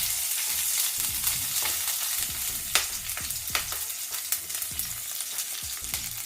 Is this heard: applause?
no